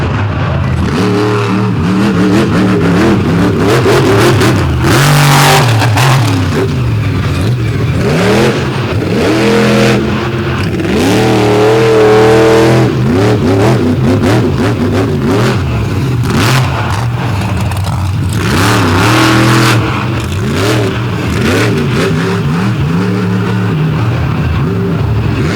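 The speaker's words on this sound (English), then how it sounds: "here comes the black and green destruction machine, the big Ford from Maryland, Toxic, and Preston Perez." Black and green Ford monster truck from Maryland revving hard during an outlaw monster truck drag race, a loud sustained engine roar with rising and falling pitch sweeps and crowd-level background noise throughout.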